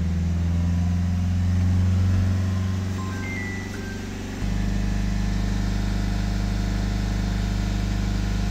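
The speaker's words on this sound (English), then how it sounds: "we'll hold the revs up at 3000 RPM" A Ford Mondeo engine, being checked for fault codes, runs at a steady held speed as a loud continuous drone, its pitch shifting once partway through and then holding, with no talking.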